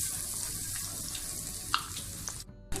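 Pakoras sizzle steadily in hot oil in a home kitchen, a continuous bright frying hiss with a few small pops and clinks near the end.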